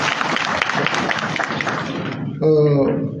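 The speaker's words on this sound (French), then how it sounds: "Je vous demande d'applaudir le Conseil supérieur à votre président" A press conference in Mali fills with dense, sustained audience applause, then breaks off as a voice comes in near the end.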